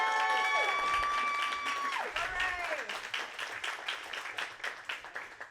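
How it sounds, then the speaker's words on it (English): An audience at an art exhibition opening night breaks into applause, steady clapping that thins out into scattered, fading claps near the end, with a voice over the start. "Let's give her a round of applause."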